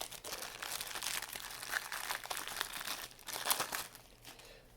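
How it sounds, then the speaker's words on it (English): Plastic packaging for a Samsung fast charger with USB-C cable is crinkled and torn open by hand, a soft, close series of rustling crackles with a few sharper crunches, no talking. "Let me go ahead and unwrap it for you."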